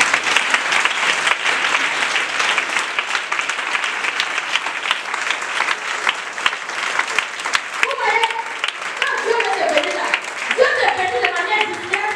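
A church congregation at a Sunday evangelical service breaks into sustained applause, dense rhythmic clapping from a crowd, with voices rising over it toward the end.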